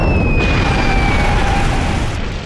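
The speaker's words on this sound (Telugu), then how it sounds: "బ్లాస్ట్ అవబోతోంది." A cartoon explosion as two chemicals mix: a loud, sustained roaring blast filling the whole moment, with a thin descending whistle-like tone over it, fading slightly at the end.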